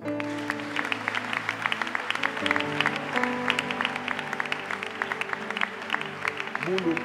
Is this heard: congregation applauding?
yes